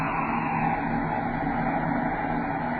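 Spaceship braking rockets fire in a radio drama sound effect, a steady, muffled, continuous roaring rush at constant loudness throughout.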